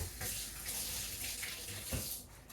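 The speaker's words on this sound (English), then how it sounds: "Let me rinse my fingers." Tap water runs steadily into a sink as fingers are rinsed during trifle making, a soft continuous splashing hiss lasting the whole moment, with no talking over it.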